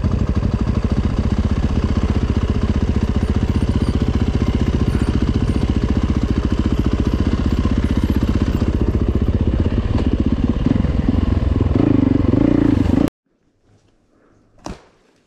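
A Yamaha YZ450FX dirt bike engine runs loud and close on a trail for about thirteen seconds, a rough, pulsing mid-pitched drone that then cuts off abruptly into near silence with one brief knock.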